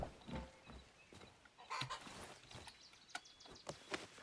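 A chicken in the Hytale video game clucks in short, soft bursts spread across a quiet stretch, with scattered small game noises and no talking.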